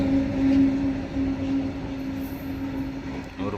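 A train rumbles past with a steady low drone and a sustained whine, fairly loud and continuous throughout, with no voices.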